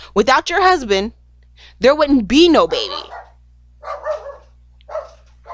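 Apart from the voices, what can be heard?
dogs barking in the background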